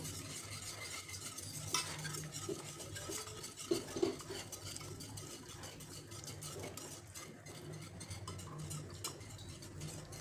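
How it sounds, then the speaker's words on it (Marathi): A spoon stirs a thickening rice flour slurry in a pot on the stove, a steady soft scraping and swishing with a few light clinks against the metal, continuing without talk. "हे लगेच घट्ट होत असतं त्यामुळे हलवीत राहायचे."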